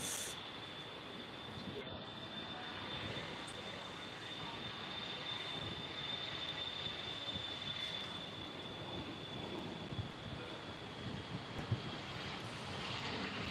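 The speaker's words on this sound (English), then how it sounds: "So that's the private jet going off, the Bombardier Challenge 350." A Bombardier Challenger 350 private jet takes off at Birmingham Airport, its engine roar a steady broadband rumble with a thin high whine, continuous and moderately distant throughout.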